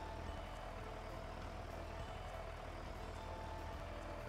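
In the Stardew Valley farming game, the tractor engine keeps up a steady, droning low rumble with a slight thrum, continuous and close, with no speech.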